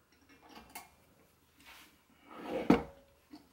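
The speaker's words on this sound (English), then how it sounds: "Take the top one, put it on top, use the binder clips to hold it." Binder clips snapped onto a pan lid to close a makeshift Dutch oven for no-knead bread, giving a few soft clacks of metal on cookware and one sharper clamp near the end, close by with no talk.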